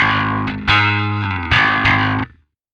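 Bass played through a Parallax X pedal with pitch shifted up by semitones gives distorted, synth-like sustained notes, a few plucked notes ringing and overlapping before cutting off into silence.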